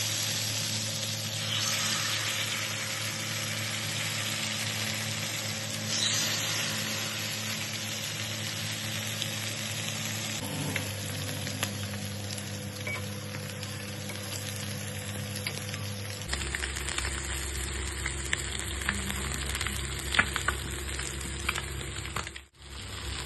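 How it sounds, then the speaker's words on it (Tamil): Fish shallow-frying in coconut oil on a flat stone dosa griddle gives a steady, close, crackling sizzle with no talk, its texture shifting twice partway through and a brief clatter near the end. "கல்லில் தான் பொரிச்சு எடுக்க போகிறோம் மீனை."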